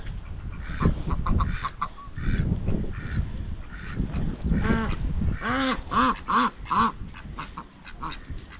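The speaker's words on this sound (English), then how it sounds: "They are big ducks." Large ducks honk and quack repeatedly near the coast at Torcross by Slapton Ley, South Devon, the calls growing louder and more rapid toward the end, with rustling and movement close by.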